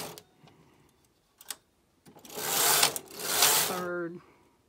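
Silver Reed or Singer knitting machine doing an automatic e-wrap cast-on: a few faint clicks, then two long whirring carriage passes ending in a short mechanical whine, fairly close.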